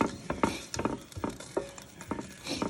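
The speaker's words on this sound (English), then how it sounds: "if you hear it sizzling, we're just going to let it cook" A tomato sauce with cactus bubbles and sizzles in a countertop pan while being stirred, soft rhythmic scraping and spattering, close and quiet with no voices.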